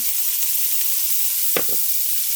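Chopped onion sizzling in a hot pan for chicken cacciatore, a steady bright hiss that stays fairly loud throughout, broken near the end by a couple of brief clinks.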